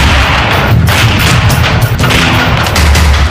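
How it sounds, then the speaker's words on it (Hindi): Gunfire and explosions from the Kargil war roar in a loud, dense, continuous barrage of booms and rumbling blasts, with no pauses. "बाईस साल पहले करगिल की पहाड़ियों में गोलियों की आवाजें और धमाके गूंज रहे थे।"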